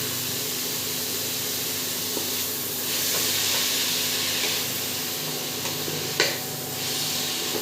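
Leafy greens salted in a pan give off a steady hiss and sizzle of steam, with brief scraping stirs and a sharper clatter near the end, and no voices over it.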